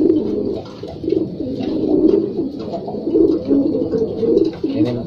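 Pigeons coo close by in repeated low, rolling phrases, one call following another almost without pause.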